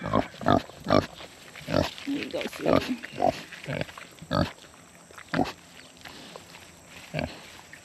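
A pet pig in a Kentucky garden grunts and oinks in short repeated bursts while eating salad greens close by, and someone speaks softly between the grunts.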